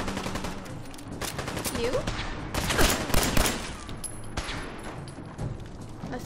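Rapid gunfire in the video game Fallout 4 Far Harbor, repeated sharp bursts and volleys of shots crackling throughout at close range, with a brief spoken word.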